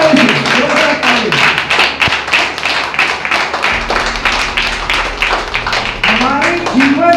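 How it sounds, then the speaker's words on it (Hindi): A church congregation at a Hindi-language Sunday sermon claps loudly in a steady, rhythmic beat that continues throughout, mixed with music and voices. "जोरदार ताली मारेंगे, जोरदार ताली, जोरदार ताली।"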